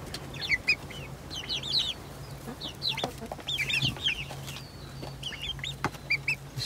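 Young chicks in a coop, including Rhode Island Red, brown Leghorn, Plymouth Rock, Australorp and Buff Orpington, make many overlapping clucks and chirps close by over a steady low hum.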